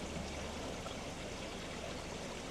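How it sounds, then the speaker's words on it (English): Koi pond filter shower running at full blast, water pounding down in a dense, steady rushing splash, fairly faint and unbroken with no voices. "you can absolutely hear the shower pounding through now"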